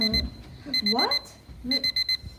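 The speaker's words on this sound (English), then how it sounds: "I swear, this alarm clock is like haunted or something." An alarm clock beeps in quick repeated bursts of bright electronic tones, loud and close, broken by short pauses while people talk over and between the beeps.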